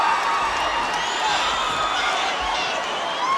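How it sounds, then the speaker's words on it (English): Wrestling arena crowd roaring in approval for Brutus the Barber Beefcake, a dense, steady wall of cheering and whoops throughout, loud and sustained with no pauses. "There's tremendous crowd approval here for Brutus the Barber Beefcake"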